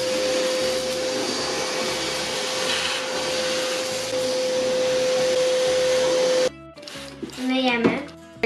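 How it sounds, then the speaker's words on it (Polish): A vacuum cleaner sucks up beads from a new desk drawer, a loud steady whine with a constant hum lasting about six seconds before it cuts off abruptly, followed by brief speech. "Potraktujemy je odkurzaczem"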